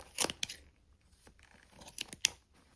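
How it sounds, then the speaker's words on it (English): Scissors cut through fabric of thrifted clothing being altered: two close clusters of crisp snipping, a couple of quick cuts, then a pause and another short burst, quiet and without talking. "So I'm going to cut straight down."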